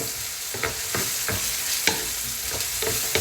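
Garlic, onion and herbs sizzle in a hot pan, with a steady frying hiss broken by repeated scraping strokes of stirring, close and fairly loud, without speech.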